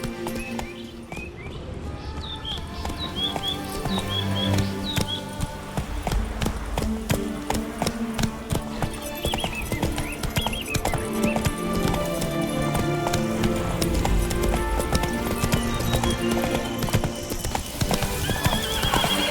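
Roach the horse gallops in Witcher 3: Blood & Wine. Fast, steady hoofbeat clip-clops run throughout with a neigh, over game music and ambience.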